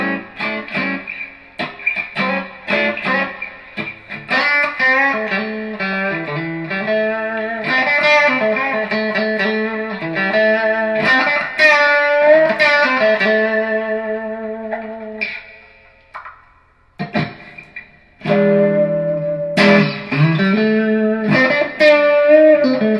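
A kit-built electric guitar played with clean tones, picked notes and chords ringing with echo and chorus-like shimmer, loud and close, one brief pause near the middle before playing resumes.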